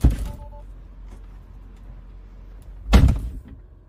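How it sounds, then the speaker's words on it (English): Two heavy car-door thuds, one at the start and another a few seconds later, with quiet background between them. "it will also respond to the opening and closing of doors"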